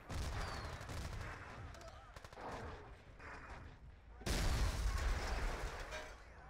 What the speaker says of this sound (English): Artillery from Santi.